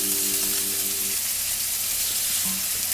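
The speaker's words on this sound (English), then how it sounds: "Can you hear that sizzle?" Lamb chops fry fat side down in a hot pan, giving a steady, loud, close sizzle and crackle throughout, with a brief tonal hum near the start.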